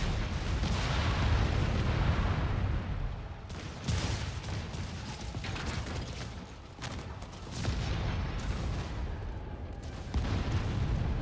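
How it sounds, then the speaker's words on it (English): Heavy RPG blasts in Marvel's Spider-Man Remastered, with convicts firing rockets at a building: a dense, loud barrage of booming explosions rolling almost continuously, with several sharper bursts breaking through the rumble. "Convicts are launching RPGs! Bring down the building!"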